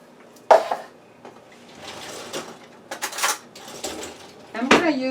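A tiny teaspoon clinks and scrapes against a jar or dish while dipping out cherry filling for mini cream cheese pastries. It gives a few sharp metallic taps near the start and end with softer scraping between, close and fairly quiet.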